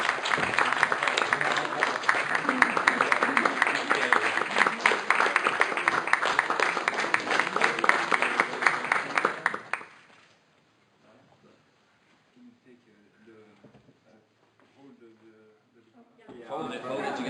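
A large audience applauding after an award presentation at a science conference, dense and sustained clapping for about ten seconds that then stops abruptly, followed by quiet talk and a short return of clapping at the end.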